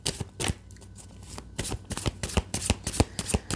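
Tarot cards being shuffled up close, a quick run of crisp riffling slaps and flicks in an uneven rhythm, alone without talk.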